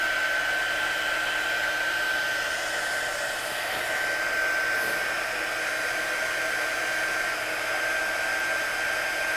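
A hair dryer blows steadily to dry a watercolour stamped Christmas card background, a loud, continuous whirring hum with a whining tone that holds unchanged throughout, with no talking.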